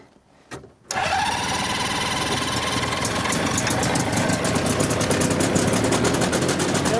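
A small aircraft engine cranks and catches after a brief quiet moment. It then settles into a loud, steady, even idle with a rapid throbbing pulse that continues to the end.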